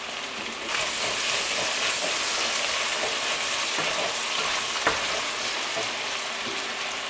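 Cabbage hits a hot pan at just below medium heat, and a broad, steady sizzle of frying holds for several seconds with faint stirring scrapes, no voices over it.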